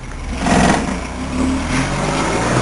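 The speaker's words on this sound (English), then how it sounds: "Car having a bit of engine trouble there." A car engine in Japan runs unevenly nearby with engine trouble, sputtering and surging a few times with a rough, fluttering drone throughout.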